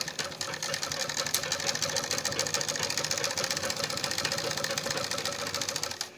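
A sewing machine runs continuously, stitching around a suit neckline with a steady, close, rattling mechanical drone that holds level for about six seconds.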